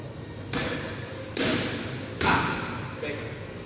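Boxing punches, a jab and a straight, landing on pads in a training session, three sharp loud slaps at an even pace followed by a softer fourth hit, close with heavy room echo.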